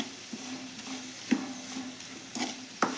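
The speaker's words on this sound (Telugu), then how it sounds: "ఇప్పుడు సర్వింగ్ బౌల్లో తీసుకుని సర్వ్ చేసేసుకుందామండి మనము" Beetroot fry is scooped from the pan into a serving bowl: a faint, steady sizzle runs underneath a few sharp spoon scrapes and taps against the cookware.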